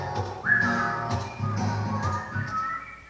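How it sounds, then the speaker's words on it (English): A person whistles a tune: bright sustained notes over a fuller musical backing, steady and moderately loud throughout. "Just purse your lips and whistle, that's the thing."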